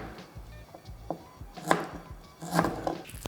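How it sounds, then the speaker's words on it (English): A knife rough-chops a piece of ginger on a cutting board, giving a handful of sharp, irregular thunks and taps close up, a few louder strikes among softer ones, with no talking. "I'm just giving a rough chop to a piece of ginger here"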